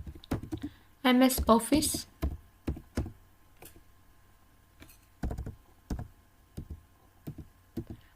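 Bursts of typing on a computer keyboard, quick clustered key clicks alternating with pauses and single taps, close and clear, while someone speaks briefly over it.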